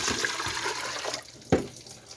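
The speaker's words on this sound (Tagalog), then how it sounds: "Tapos lagyan ng tubig." Water splashes and runs steadily into a water cooler being cleaned, a continuous wet rush with a sharper splash partway through, fairly close.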